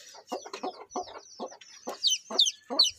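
Chickens cluck in a series of short, close, moderately loud bursts, some calls rising higher toward the end, with brief pauses between them and no talk.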